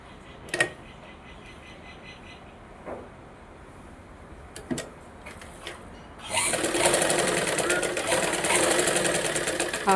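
A sewing machine stitches a blouse lining, starting after a few quiet clicks and handling noises and then running in a fast, continuous whir close by for the last few seconds.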